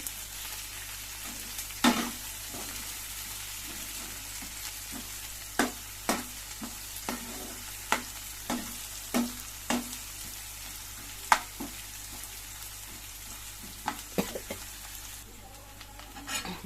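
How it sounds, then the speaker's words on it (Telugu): Curry leaves fry in hot oil for a pea and potato kurma, a steady low sizzle under repeated sharp spoon scrapes and clinks against the pan, close and fairly quiet, with no talking. "కరేపాకు కూడా వేసుకుంటాను బాగా వేగనీయాలండి"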